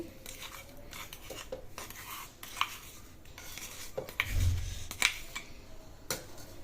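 Creamed ghee is scraped into a bowl, giving quiet, close, irregular clicks and scrapes of a utensil against the dish, with one soft thud partway through.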